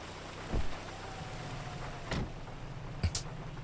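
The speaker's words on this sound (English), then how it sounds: "Oh, great, now it's raining." Steady rain hiss in a video game, Grand Theft Auto V, fills the background while a few muffled thumps and a sharp crack punctuate it at scattered moments.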